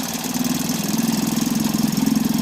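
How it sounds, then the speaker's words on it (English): A Mercury 4.5 hp outboard engine runs steadily, a mid-pitched buzzing putter with a quick regular pulse, close and alone. "we just want to make sure that we have a running engine that pumps water"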